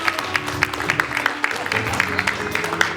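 Audience applause at a public-private-school roundtable forum on education, a scattered patter of clapping from a modest crowd with a few sharper individual claps.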